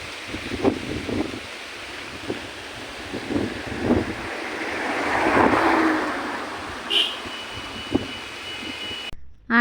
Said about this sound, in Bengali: 1 মিনিট শুনুন বাতাসের শব্দটা।